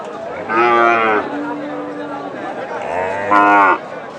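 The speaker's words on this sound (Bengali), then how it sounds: "এই গরু দেখছি এই দেশাল জাতের" Two loud, close moos from deshi breed cattle at a livestock market, each drawn out for about a second, separated by a quieter low drone, with faint background murmur.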